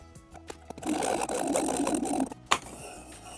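A sewing machine runs a basting stitch on a Dollar Tree tea towel, about a quarter inch from a drawn line, a steady mechanical whir lasting over a second, bracketed by soft handling clicks and a sharp tap near the end.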